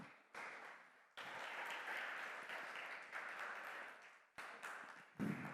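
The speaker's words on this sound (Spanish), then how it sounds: "Denle un aplauso al Señor." A church congregation claps for a while after a sermon, several bursts of crowd applause rising and falling, fairly faint and roomy with no talking over it.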